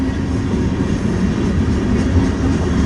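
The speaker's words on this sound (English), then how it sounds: "it looks like the first half of this is a manifest train" A Canadian Pacific manifest freight train with gondola cars rolls past close by, giving a loud, continuous rumble and rattle of wheels and cars without a break, with no voices.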